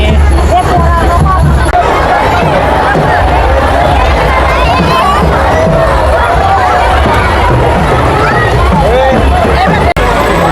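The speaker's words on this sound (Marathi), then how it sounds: "बघू शकता मित्रांनो या ठिकाणी खूप सारी गर्दी झाली आहे" A dense, loud crowd hubbub fills the riverside ghat at Godaghat in Nashik during a Ganesh immersion procession, with many overlapping voices and shouts close by throughout.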